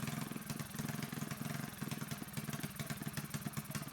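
Predator 224 mini bike engine with a Mikuni VM22 clone carburetor idling steadily at low speed, a close, even putter of rapid regular firing pulses with no revving throughout.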